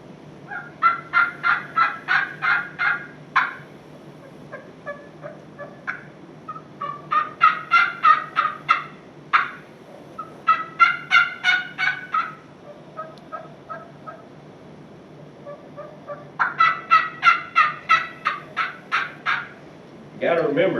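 Hen turkey yelps are imitated with hand-operated turkey calls, loud and close, in rhythmic runs of rapid raspy notes separated by short pauses, one voice clearer and another raspier.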